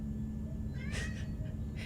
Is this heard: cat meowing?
yes